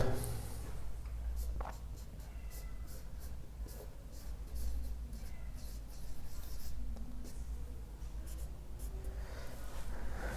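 Steady scratchy strokes of a pen or marker writing words in a notebook or on a board during a Class VII lesson, continuous with short pauses, close and alone with no talking.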